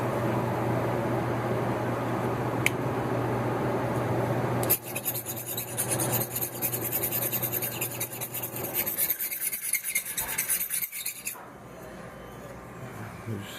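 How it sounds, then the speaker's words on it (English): Harsh, close scraping as calcium buildup is rubbed off a tea machine part, coming in uneven gritty strokes over a low background hum before easing off. "plus I need to scrape this off."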